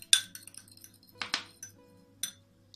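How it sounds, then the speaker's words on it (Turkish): Egg yolk is whisked in a glass bowl, giving sharp intermittent clinks and taps of a utensil against glass in uneven bursts, close and fairly quiet with soft wet squishes between strikes. "Bunun için öncelikle yumurta sarısını iyice çırpın."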